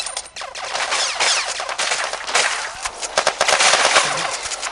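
Rapid automatic gunfire from the Blacktusk weapon in the Armajet mobile shooter game, bursts of sharp cracks rattling almost continuously with brief dips, loud and close.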